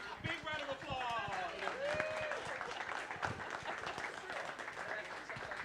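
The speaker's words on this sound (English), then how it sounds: "Big round of applause." An audience at an evening talk event claps in a dense, continuous patter, with a few voices and whoops overlapping the applause.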